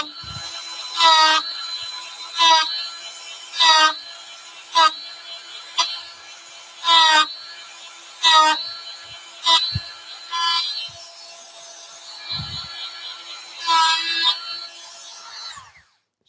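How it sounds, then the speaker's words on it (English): A power carving tool cutting decorative patterns into a turned wooden piece: about a dozen loud, whining bursts, each a second or less, coming in a fairly regular rhythm with short quiet gaps between them. "So I start to cut and actually drop the motor unit down my thumb on here"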